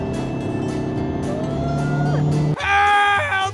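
Car accelerating hard on the German autobahn, the engine heard from inside with a steady drone that rises in pitch, then a sharp gear change and a louder, higher-revving roar.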